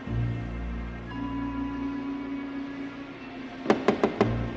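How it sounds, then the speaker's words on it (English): Four sharp knocks on a door, in quick succession and fairly close, after a few seconds of quiet low rumbling ambience; no talking. "He's knocking at the door."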